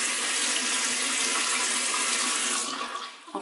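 Cold water streaming steadily from a tap into a sink, a loud close hiss that runs unbroken before easing off near the end.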